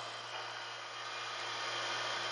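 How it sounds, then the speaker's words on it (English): Vacuum pump running steadily on a transmission valve test stand, a constant motorized hum with a high whine, no talk. "I'm gonna turn on my vacuum pump."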